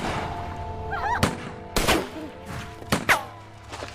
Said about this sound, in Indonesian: satu persatu pasukan Kawit menembak seakan menumpahkan kekesalannya